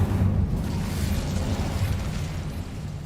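Confringo blasting spell in the Hogwarts Legacy video game, a sustained low booming explosion rumble that fades slowly, with no talk over it.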